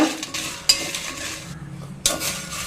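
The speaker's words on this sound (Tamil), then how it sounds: "இது எல்லாத்தையும் அடுப்பை வந்து லோ ஃப்ளேமில் வச்சுட்டு லைட்டாக வறுத்து எடுத்துக்கலாங்க" Dry red chillies roast in a pan on a low flame, with a few close scrapes and clinks of a utensil stirring them and a faint crackle.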